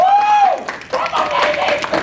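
A panel audience at a show breaks into clapping and cheering after a voice calls out, a loud crowd burst mixed with whoops over a short stretch.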